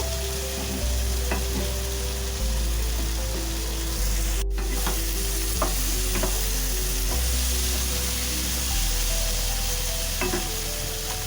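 Curry spices for an egg, cauliflower and potato curry sizzle loudly in a pan until reddish, with intermittent scraping and clinking stirs over a constant frying hiss and a low hum.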